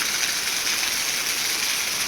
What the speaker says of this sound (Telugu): కుండపోతగా మళ్ళీ ఏల్జర్లో వర్షం స్టార్ట్ అయింది